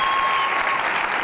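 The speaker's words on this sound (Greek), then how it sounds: "θέλω ένα θερμό χειροκρότημα στους καλύτερους μουσικούς που έρχονται στην Κύπρο" A warm burst of audience applause at a live stand-up comedy show in Cyprus, greeting the musicians: dense, even clapping from a crowd, loud and close, lasting a brief moment.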